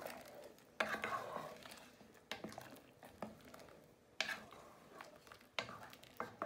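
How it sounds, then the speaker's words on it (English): A spoon stirring chickpea and chorizo soup in a pan, quiet scraping and knocking strokes recurring every second or so, with soft wet patter between them. "You want to give that a good stir"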